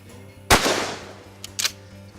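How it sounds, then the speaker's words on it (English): A shotgun fires a single 1-ounce rifled slug outdoors, a sharp, loud blast with a short decaying tail, followed by a couple of fainter clicks or knocks. "Now we've moved all the way up to a 1-ounce rifled slug."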